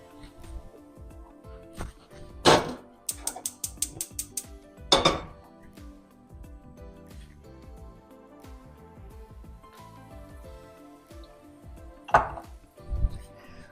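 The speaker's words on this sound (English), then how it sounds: "actually start some olive oil in my skillet" A skillet is set on the stove and olive oil is started in it, in a home kitchen. Loud metallic clanks and a quick rattle of pans and utensils come in short bursts, with quieter handling in between.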